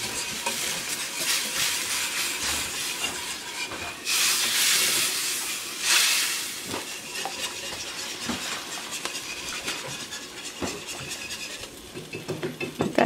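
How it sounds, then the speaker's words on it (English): A whisk stirs a chicken and dressing mixture in a bowl with a continuous wet scraping and clinking, close and fairly loud, surging in brief louder swishes midway. "I'm going to give it a whisk."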